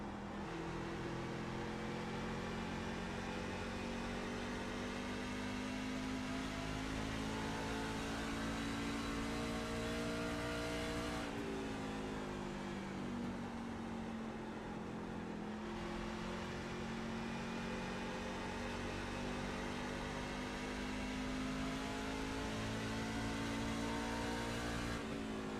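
A racing truck engine at Phoenix in a racing video game drones on for the whole stretch at a steady, faint pitch. It drops briefly at one point, as if shifting or lifting off, then climbs back to full speed.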